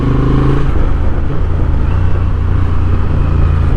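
A 2026 Honda Transalp motorcycle on the road, its engine droning steadily and loud at a constant pace, with wind and road noise close up throughout.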